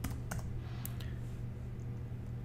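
Typing on a computer keyboard produces a few quick, faint key clicks in a short sequence, close by in a quiet room with no talking.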